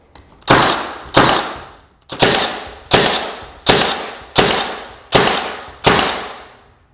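A Milwaukee Gen 2 18-gauge brad nailer fires into primed pine, eight sharp, loud shots in a steady rhythm with short ringing decays, with one slightly longer pause partway through and no talking.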